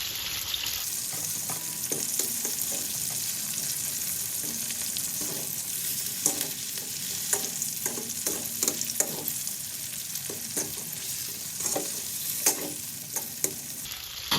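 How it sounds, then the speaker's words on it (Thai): Chicken with cashew nuts fries in a pan, a loud, steady sizzle with frequent sharp pops and clinks of stirring throughout, close up and without talking. "เราก็จะทอดเขาแค่แป๊บเดียวพอค่ะ"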